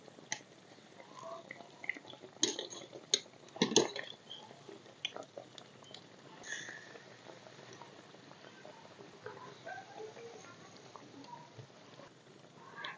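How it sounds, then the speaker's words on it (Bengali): Taler malpoya, palm-fruit pancakes, fry in hot oil with a soft, uneven bubbling and crackling and a few louder splashy bursts as they are turned over, with no talking. "উল্টে পাল্টে ভালো করে লাল লাল করে কিন্তু ভাজবো"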